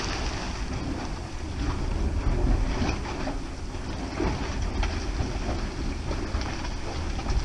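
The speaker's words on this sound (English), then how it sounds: "when the water boils up, it hits the side of the cave, and that's where it's getting its noise" Dragon's Mouth Spring in Yellowstone, boiling water surging up and slapping against the walls of its cave, a loud continuous churning roar with deep rumbling pulses and no voices.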